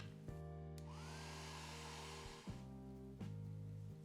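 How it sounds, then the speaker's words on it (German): A hair dryer blows steadily to dry a watercolor painting of a loose beach scene with boats, its loud motor whine holding nearly constant, with a brief dip midway and a small pitch shift as it is repositioned. "Das muss ich jetzt einmal trocken föhnen, damit die Schatten darüber kommen können."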